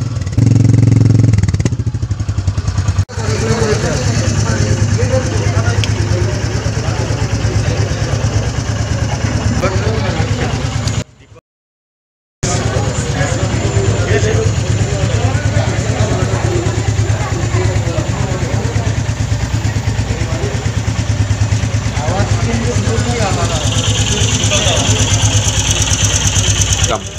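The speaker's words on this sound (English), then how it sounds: "Completely new 350cc well-injected motor that is superbly refined." A Royal Enfield Meteor 350cc fuel-injected motorcycle engine idles with a steady, loud, close rumble that runs throughout, briefly cutting out midway, while someone talks over it.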